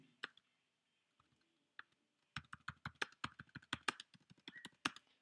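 Keys clatter on a computer keyboard during touch-typing practice: a few isolated taps, then a brisk, uneven run of close, crisp clicks in quiet surroundings with no talking.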